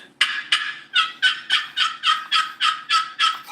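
A chalked wooden turkey box call rasps out a rapid series of about eleven sharp, evenly spaced yelps in imitation of a hen, loud and close with no talking.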